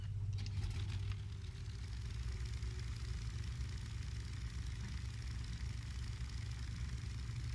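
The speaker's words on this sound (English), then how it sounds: "Warning in advance, this boat engine is incredibly loud." A boat engine in The Sinking City video game drones at a steady low idle, a constant rumbling throb with a few brief clanks at the start and no talking.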